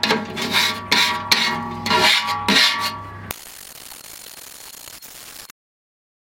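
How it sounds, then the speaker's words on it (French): Metal scraper working over a rusty plancha griddle in several rhythmic grinding strokes, close and loud, then a quieter hiss before the sound cuts out. "on va gratter pour venir tout récupérer comme ça en décollant bien"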